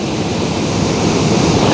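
A waterfall roars close by as a dense, steady rush of falling water with no pauses and no voices.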